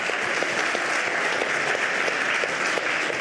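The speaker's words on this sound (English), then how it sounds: "Let's have a round of applause for all the people who came up here to do that." An audience at a security conference improv session gives sustained, even applause for the volunteers, a steady mid-distance clapping with no talk over it.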